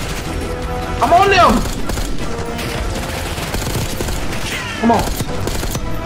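Gunfire bursts in the Call of Duty Black Ops 6 video game on hardest difficulty, rattling in short volleys with louder peaks near the start and end, mixed under excited shouting from a player.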